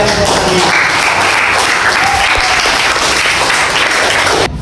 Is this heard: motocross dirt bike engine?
no